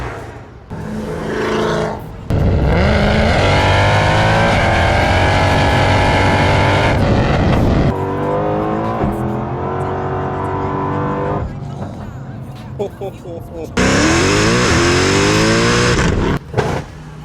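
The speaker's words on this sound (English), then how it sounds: "I really like this V8. Let's hear it." A Mercedes C63 V8 engine fires up and revs hard in repeated bursts, loud and close, rumbling between surges with brief idle gaps and a voice in the background.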